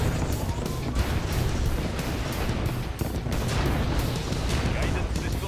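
Dense, continuous booms and blasts roll through a large battle in Command & Conquer: Yuri's Revenge, with missile and artillery explosions layered thickly at a steady loud level and no break in the barrage.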